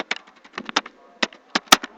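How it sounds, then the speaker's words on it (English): Computer keyboard typing close by: a quick irregular run of sharp key clicks in clusters, with a few louder taps, heard alone without talk. "sorry about my typing"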